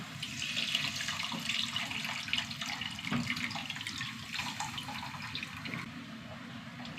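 Hot water poured steadily into a clay cooking pot of fish curry with green chillies, curry leaves and tamarind, making a continuous close splashing rush with no talk.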